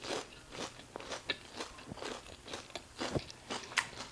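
Close, soft crunching and chewing of onion from a Dairy Queen Jalito Ranch burger, repeated irregular crisp bites and wet mastication in quiet surroundings, with no talking.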